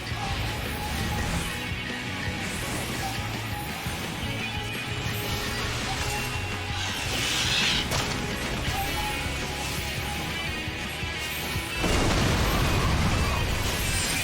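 A star bomb detonating in Final Fantasy XIV: a long, loud, dense wall of crashing explosion noise with rumbling and clattering effects, swelling near the end.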